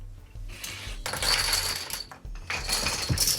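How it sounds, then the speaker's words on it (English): A wheel of hot-glued dominoes rolls down a small ramp and crashes into standing dominoes, giving several bursts of bright clattering and tumbling of hard pieces, close and fairly loud. "Kind of makes a wheel out of dominoes, which will come down this little ramp and crash into these."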